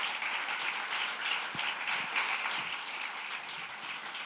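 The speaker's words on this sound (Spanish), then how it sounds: "Ahora dele el aplauso al Señor" Applause for the Lord from a church congregation during a sermon, a continuous, moderately distant patter of many hands clapping with no voices over it.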